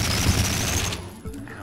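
A minigun fires in the video game Project Warlock as a loud, continuous rapid burst that cuts off about a second in, followed by brief game sounds.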